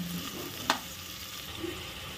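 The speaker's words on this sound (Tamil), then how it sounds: "இந்த வெங்காயம் நல்லா ப்ரௌன் கலர் வர வரைக்கும் இதை நல்லா ஃப்ரை பண்ணிக்கணும்." Sliced onion frying in a pan toward brown for a tomato bath, a soft constant sizzle with one sharp spoon clack midway, close but quiet, no voices.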